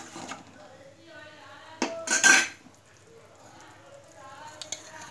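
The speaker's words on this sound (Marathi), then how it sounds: "आता यामध्ये आपण हे ज्वारीचं भाजलेलं पीठ आहे ते यामध्ये घालूयात आणि यालाही व्यवस्थित" Roasted jowar flour stirred into masala in a pan for spicy chicken rassa: soft sizzling under light background, with a loud burst of spoon-against-pan clatter and clinking midway and a few fainter taps after.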